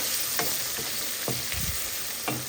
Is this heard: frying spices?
yes